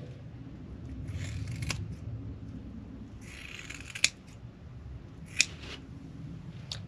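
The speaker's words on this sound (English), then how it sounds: "Just need to cut this little section out here." Scissors cut a small section from a foam mattress in a self-built campervan, giving a few bursts of snipping and crunching with a couple of sharp clicks, over a steady low background hum.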